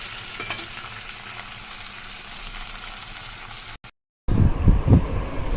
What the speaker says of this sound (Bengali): এখানে কচুটা ফ্রাই করতে বসিয়ে দিয়েছি। তোমরা চাইলে সাদা তেলেও করতে পারো, আবার সরষের তেলেও করতে পারো।